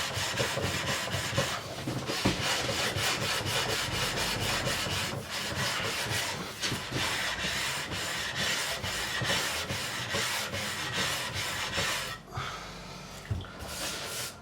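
Fine abrasive rubbing across the frets of a Made in Japan Schecter guitar during a refret, a continuous scratchy back-and-forth scrub with rhythmic strokes, close and steady.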